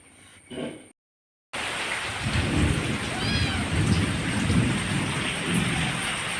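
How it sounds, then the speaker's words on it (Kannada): Dense, steady roar of heavy rain pouring down after a brief silence, with a faint bird call and a short muffled sound at the start. "ಮಳೆ ಬರ್ತಾ ಉಂಟು ಜೋರು ಮಳೆ ಬರ್ತಾ ಉಂಟು"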